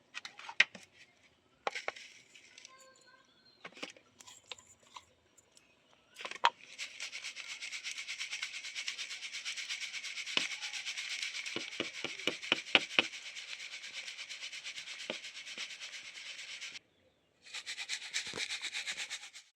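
Powdered misri (sugar candy) is sifted through a sieve at close range, a steady dry rasping and rubbing with rhythmic taps, pausing briefly near the end before resuming; no talking.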